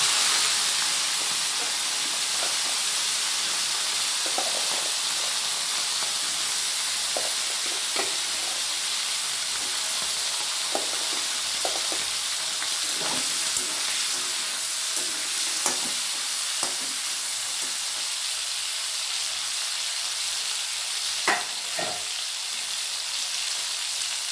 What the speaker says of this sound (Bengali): এবার আমি কড়াইতে কিছুটা তেল দিয়েছি ওই তেলে আমি অল্প একটু ভেজে নেবো